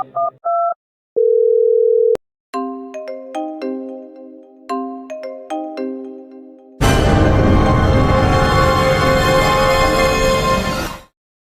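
Phone call sequence heard alone: short beeps, a steady dial tone, a series of keypad-style tones, then a loud continuous ringing buzz before it cuts off.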